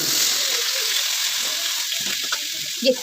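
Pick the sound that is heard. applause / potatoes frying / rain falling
potatoes frying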